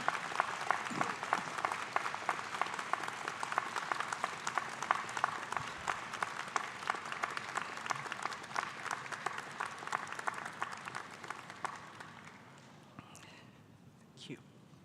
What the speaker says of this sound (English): applaud all who have helped you to get to this point.